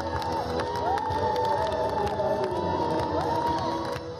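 Audience at a railway workers' competition in Kazakhstan, for conductors and train crews, cheers and shouts loudly over a stage performance, with sustained musical tones and scattered claps underneath.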